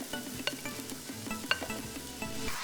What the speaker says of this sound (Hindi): तेज आंच पे 2 से 3 मिनट फ्राई करना है